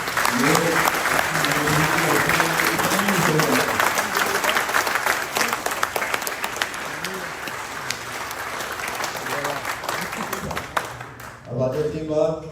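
A crowd applauds at a mall opening speech in Pakistan, steady dense clapping that gradually thins and fades before a voice speaks at the end.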